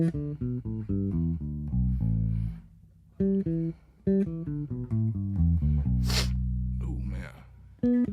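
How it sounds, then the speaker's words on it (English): A single sharp, brief sneeze bursts out between plucked electric bass notes during a pentatonic scale lesson. "Oh, I gotta sneeze."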